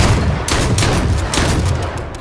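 Rapid gunfire crackles in the H1Z1 survival video game, a dense, loud burst of overlapping shots lasting a couple of seconds with no pause or talk.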